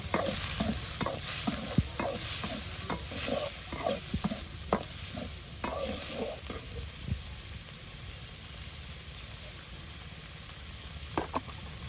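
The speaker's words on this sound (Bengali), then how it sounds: "এখন ইসা মাছগুলো ভাজা ভাজা করে নিবে" Small river shrimp (isha) frying in oil in a wok during village cooking, with steady sizzling and repeated scraping stirs of the spatula, close up and without talk.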